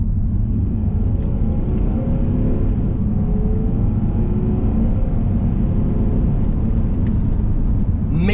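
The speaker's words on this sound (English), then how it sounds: "let's see what this is like when I put my foot down" A 2017 Volvo S60 D4 diesel with a Polestar tune and automatic gearbox accelerates at full throttle, its engine a loud, steady low drone with a rising note, heard from inside the cabin.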